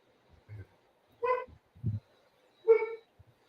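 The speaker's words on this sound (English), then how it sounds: "Oh, that's my dog." A few separate barks from a dog at a distance, short and muffled, with quiet pauses between them.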